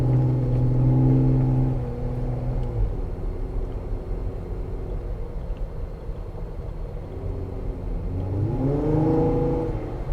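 A car accelerating with its throttle controller on setting 2. The engine revs up loudly, drops back to a steady cruising hum, then climbs again near the end.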